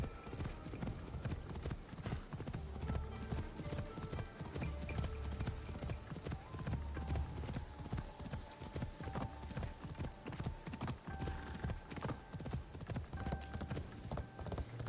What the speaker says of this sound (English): being able to gallop through towns is so nice